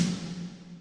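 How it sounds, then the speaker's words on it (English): A single snare drum sample hit in Logic Pro X with a sharp crack and a short ringing decay, heard alone. "there might be a snare sound like this one"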